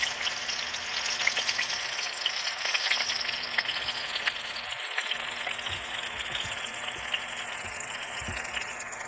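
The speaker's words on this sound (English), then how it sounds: "Now they're going to fry up real quick." Artichoke hearts deep fry in hot oil with a steady, dense sizzle and crackle that holds loud and even throughout, with no talking.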